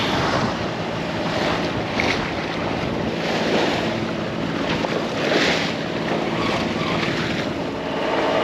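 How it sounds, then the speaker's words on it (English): Blustery morning wind buffets a boat travelling from Georgetown toward Osprey Marina, a loud continuous roar with gusts and water wash close around, no voices. "Kind of a blustery morning."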